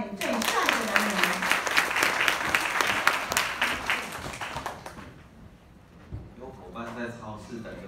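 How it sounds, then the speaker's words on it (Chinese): An audience claps for about five seconds to welcome a speaker at a training session, a dense, steady burst that fades as a single voice begins talking over the tail. "来，掌声欢迎最帅的男人。"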